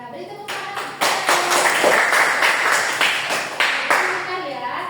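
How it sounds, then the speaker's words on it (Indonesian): A classroom group claps together, starting with scattered claps and building into steady, close applause for a few seconds before it thins out. Children's voices are faintly mixed in. "Iya, beri tepuk tangan."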